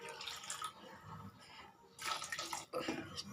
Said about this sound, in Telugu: నేను కొంచెం వాటర్ వేసుకుంటున్నా.